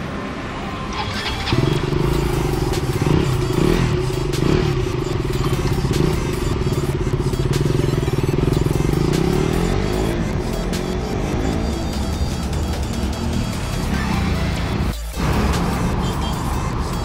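A KTM Duke 200 motorcycle being ridden, its engine droning steadily and close with rising and falling revs, a few clattering knocks and a brief dip near the end, with no talking.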